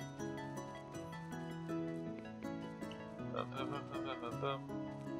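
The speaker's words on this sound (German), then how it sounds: "Okay, jetzt hört ihr aber auch die Zikade." A cicada chirps in the video game Staxel, a buzzy, pulsing call in the second half, layered over soft, steady in-game music.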